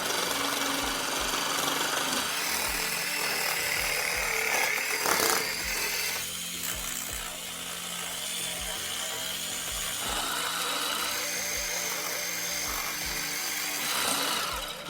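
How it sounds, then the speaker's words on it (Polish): A jigsaw buzzes and rattles in a rapid, uneven rhythm, cutting through click vinyl flooring nearby with occasional louder bursts. "Otwór wytnijmy później powyżynarką."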